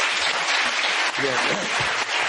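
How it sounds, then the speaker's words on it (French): Studio audience of a French television talk show applauding a guest, dense continuous clapping throughout with a voice briefly speaking over it midway. "On applaudit Nicolas Besançon."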